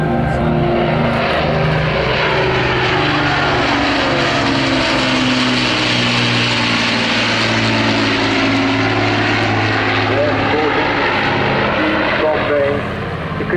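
A Lancaster bomber's piston engines and propellers drone loudly overhead at the Southport Air Show, a continuous heavy rumble sweeping past close by while an announcer talks over the public address.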